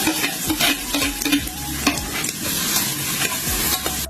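Onion and garlic sautéing in a pan for Filipino chicken binakol, a crackling sizzle with rhythmic scraping stirs every half second or so, close and fairly loud, no voices.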